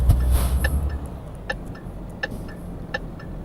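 A truck's turn signal in Euro Truck Simulator 2 ticks in an even, regular rhythm over a low engine hum, fairly quiet.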